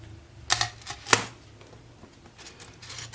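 A gantry part being cut: a couple of sharp snipping clicks close together, followed by softer scattered rustling and handling noises, no talk.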